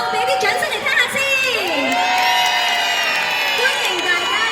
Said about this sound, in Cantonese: 俾啲掌聲嚟聽下先